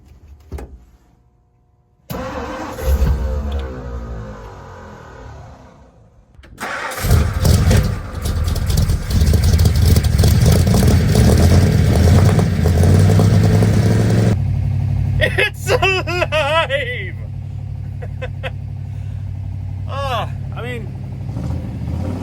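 An engine with a freshly repaired points ignition cranks, catches and roars to life, then settles into a loud, steady idle, with a person talking over it.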